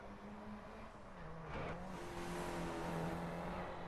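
An Audi A1's engine in the racing video game Driveclub drones and rises in pitch as it passes by, with a faint tire squeal and steady background roar.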